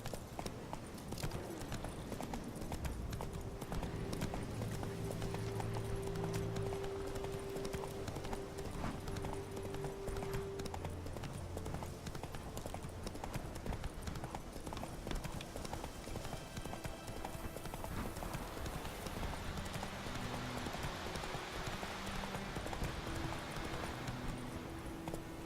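Horse hooves galloping in the video game The Witcher 3: steady, continuous clip-clop at a loud level, running throughout over game ambience, with occasional faint tones.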